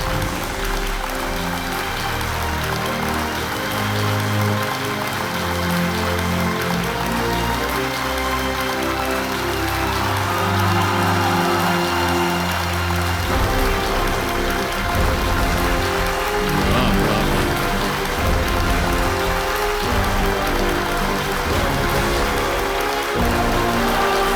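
Sustained applause from a studio audience on the KBC game show stage, a dense, steady wash of many hands clapping at full volume throughout with no talk.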